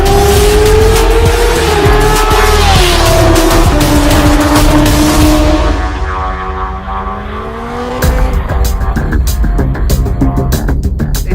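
Kawasaki Ninja H2 supercharged sport motorcycle ridden at speed, its engine wailing loudly and continuously with rising and shifting revs, a brief dip midway before the roar returns, no talk over it.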